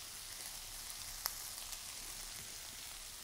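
Pork cartilage sizzling on a Thai mookata grill pan, a steady soft crackling hiss with one sharp pop, heard close up and with no talking.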